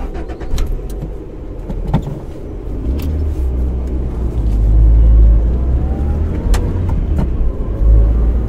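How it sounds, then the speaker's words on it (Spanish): A car rumbles to life and pulls away, a low engine drone building and rising with faint clinks and clicks scattered over it, close and fairly loud, without speech. "Se subió a su coche y rápidamente comenzó a manejar."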